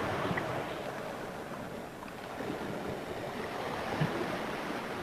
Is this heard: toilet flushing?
yes